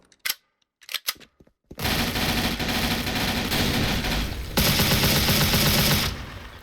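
Gunfire in the video game Special Force: a few isolated sharp shots open, then a loud, continuous rapid burst of automatic fire, likely from an MP5, hammers on for several seconds before stopping abruptly.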